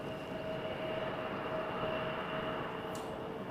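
An Airbus A321neo landing at Toronto Pearson in a slight crosswind, heard as a steady, distant jet roar that neither rises nor fades.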